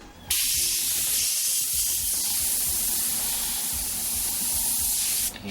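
An airbrush sprays paint in one continuous, steady hiss lasting several seconds, close and even, starting and stopping abruptly.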